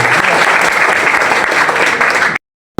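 Audience applause at an award ceremony for food delivery riders, loud, dense clapping from a crowd sustained for a couple of seconds, then cutting off abruptly into silence.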